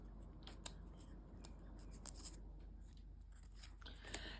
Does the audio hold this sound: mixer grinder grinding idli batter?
no